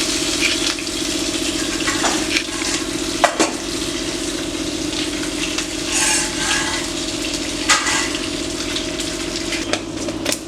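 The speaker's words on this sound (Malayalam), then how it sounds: "അതിലോട്ട് ആ എണ്ണയിൽ തന്നെ ഇച്ചിരി കടുക് ഇട്ടിട്ടുണ്ട്." Mustard seeds fry in oil left over from frying giant gourami fish, giving a loud, steady sizzle with scattered sharp pops and crackles, close by, under a low background hum.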